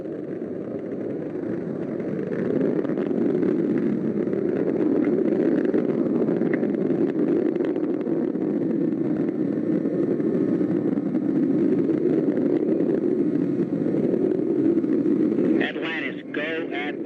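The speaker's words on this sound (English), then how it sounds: "Engines now revving up, standing by for the throttle up call." Space shuttle Atlantis's main engines give a continuous, heavy, rumbling roar during the final shuttle launch, at throttle up in ascent. The roar holds steady and loud for most of the stretch, then breaks off abruptly near the end.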